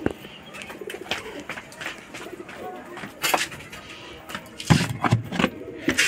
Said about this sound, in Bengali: তো দেখতে পাচ্ছ এখানে সব পায়রাই বাইরে বেরিয়ে পড়েছে আমার